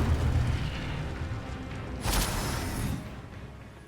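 Casting the Incendio fire spell in Hogwarts Legacy produces a dull whooshing burst, a rushing fiery swell that peaks about halfway through over a steady rumbling background.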